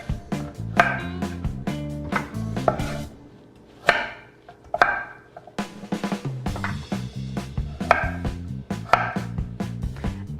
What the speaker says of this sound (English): chop the ends off of the carrots